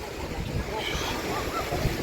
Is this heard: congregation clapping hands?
no